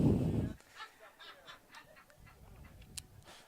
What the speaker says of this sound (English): Oh my goodness, right over the field, a beautiful flock of geese flying.